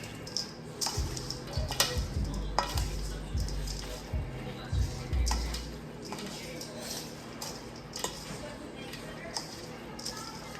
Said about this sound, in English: Get all those seasonings mixed around your bowl.